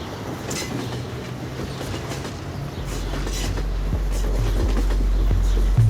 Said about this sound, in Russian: нужно сначала ехать на поезде